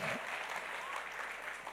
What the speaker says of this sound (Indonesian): Beri tepuk tangan buat Tuhan kita.